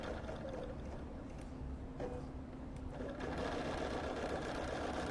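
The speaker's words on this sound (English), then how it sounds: "Hit start. It's going to baste around the design" An embroidery sewing machine runs a basting stitch around a design for a bag, giving a continuous, close, even mechanical whir and rattle that stays steady throughout without speech.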